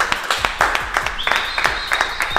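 A small group of people in a gym claps together in quick, fairly even beats, close and moderately loud, with a faint voice in the background.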